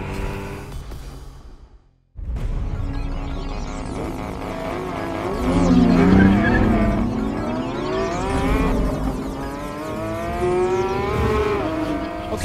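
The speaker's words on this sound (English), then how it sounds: "we had to run a few drag races, didn't we?" Sports cars in a side-by-side drag race, including a Porsche GT3 RS and an MC20 Cielo: a short lull, then engines roar off the line and climb through rising, falling gear changes, loud and sustained.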